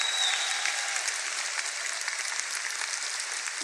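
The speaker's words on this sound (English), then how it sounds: "I would like to have another round of applause for our award-winning ROTC and band." Audience at a high school commencement ceremony applauding the ROTC and band, a dense steady wash of clapping from a large crowd that continues at an even level throughout.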